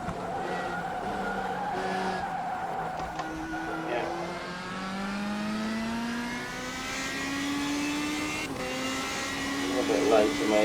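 A Radical SR3 race car in a racing video game brakes hard into the Horseshoe corner, its engine pitch sweeping and shifting under steady commentary, with tires squealing faintly near the end.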